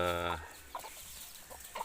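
Free-range Peruvian chickens roaming a wide wooded yard give one drawn-out, tonal call followed by several short, soft clucks close by.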